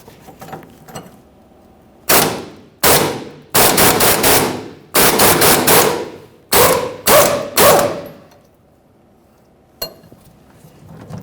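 A 21mm wrench working the upper rear shock absorber mounting bolt on a 1999-2006 Chevrolet Silverado 1500: loud, close bursts of rapid ratcheting in several clusters, separated by short pauses, with a single faint click near the end.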